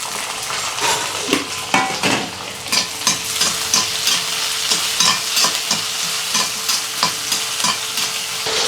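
Chopped onion, tomato and green chilli sizzle in a pan while a spoon stirs and scrapes in repeated, rhythmic strokes over a constant close frying hiss.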